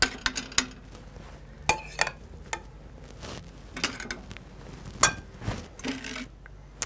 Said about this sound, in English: So I'm going to finish this batch with my food mill.